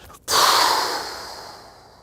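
A single forceful exhale, a loud breathy rush of air close to the mic that starts abruptly and fades slowly over about two seconds.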